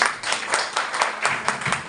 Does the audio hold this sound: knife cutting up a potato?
no